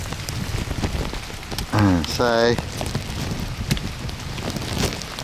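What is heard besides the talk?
rain falling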